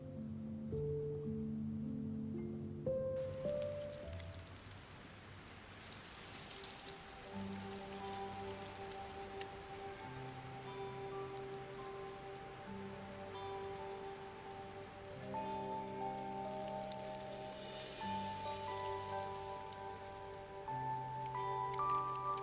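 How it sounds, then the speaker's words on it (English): Steady rain falling in the Love and Deepspace video game, a continuous dense patter that stays even throughout, with soft sustained music tones running underneath and no talking. "Keep out of the rain."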